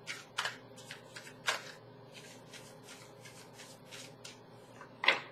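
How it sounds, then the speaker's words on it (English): Tarot cards are shuffled by hand in several quick riffling bursts with soft rubbing between, close and fairly quiet, no speech. "One more shuffle."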